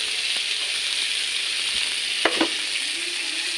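Onions frying with salt in a pan, an even, steady sizzle heard up close, with a couple of brief stirring scrapes toward the end.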